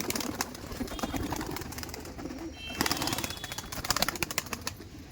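Pigeons in a loft, with soft cooing and bird calls over a busy background of fluttering and rustling, fairly close.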